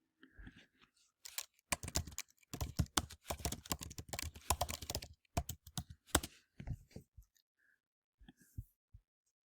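Keys clatter on a computer keyboard in close, quiet bursts of rapid typing separated by short pauses, a few isolated taps trailing off at the end.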